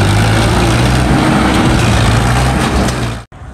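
A tractor engine runs loud and steady with a deep droning hum during a stunt, holding constant before cutting off abruptly near the end.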